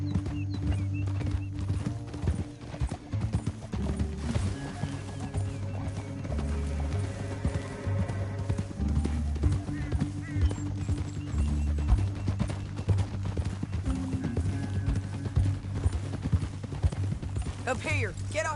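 Horse hooves clip-clop at a steady rhythm in the video game Red Dead Redemption 2, under game music and character dialogue, with occasional snorts.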